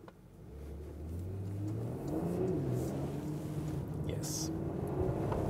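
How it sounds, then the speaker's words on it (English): A rear-biased all-wheel-drive luxury sedan with rear-axle steering accelerates out of a corner, its engine note climbing steadily from a low hum to a fuller drone, with brief speech over it. "Accelerating out of the corner with the rear wheel biased all-wheel drive, rear axis steering."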